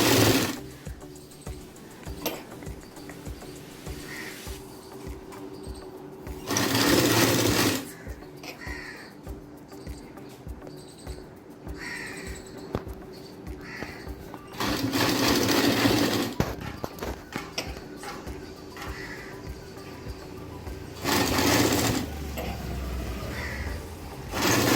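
Sewing machine stitching around a blouse neckline, running in several loud bursts of a few seconds each with quieter handling noise between them.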